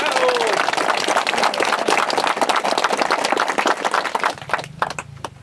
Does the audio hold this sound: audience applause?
yes